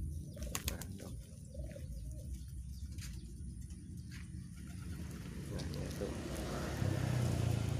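Pigeons on and around a tiled rooftop give soft, low cooing with bursts of wing flapping. Steady outdoor background noise and a faint voice sit underneath.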